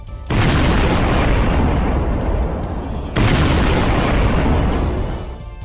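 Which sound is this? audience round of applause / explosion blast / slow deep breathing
explosion blast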